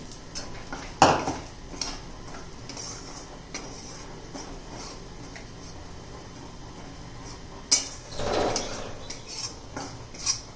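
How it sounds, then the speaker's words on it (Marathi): Gram flour (besan) is dry-roasted and stirred in a pan for a quick methi bhaji. The spatula clinks and scrapes quietly against the metal, with two sharper scrapes standing out near the start and toward the end. "बेसन पीठ भाजून घेते खमंग असं मस्त"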